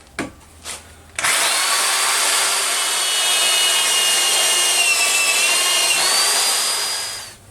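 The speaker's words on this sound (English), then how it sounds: "I'm going to drill those four holes real quick" A power drill bores holes in a homemade metal cam lock bar for an Audi B5 S4 2.7T engine. A couple of short taps come first, then a loud, steady, high-pitched whine of cutting that runs for about six seconds before tapering off.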